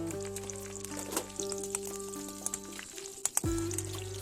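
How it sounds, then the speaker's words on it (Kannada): Raisins fry in ghee in a pan, giving a soft steady sizzle with small pops and a few sharp clicks of a utensil near the end, under a faint background hum. "ಫಸ್ಟು ದ್ರಾಕ್ಷಿ ಫ್ರೈ ಮಾಡ್ಕೊತಾ ಇದ್ದೀನಿ"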